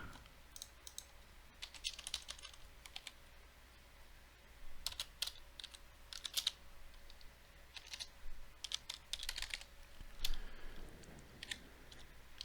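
Someone types on a computer keyboard while entering a PowerShell command, with quiet scattered bursts of key clicks and short pauses between them, heard close up with no speech.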